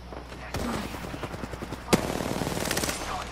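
Automatic weapon fire in the battle royale shooter Apex Legends, a steady rapid rattle of shots with a sharp louder blast near the middle, continuing under faint background game sounds.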